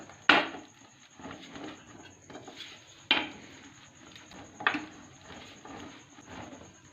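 A rolling pin is pressed and rolled over hot peanut candy made for kovilpatti kadalai mittai, giving close wooden knocks and clatters in a few distinct bumps amid soft rolling scrapes.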